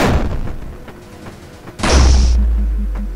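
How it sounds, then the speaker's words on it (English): A single heavy gunshot boom from the video game Murder Miners, sharp and loud, ringing out in a decaying rumble with a faint repeating beep underneath. "Just shoot one bullet at a time."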